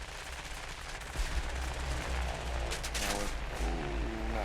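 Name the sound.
machine gun fire from a fighter plane in a video game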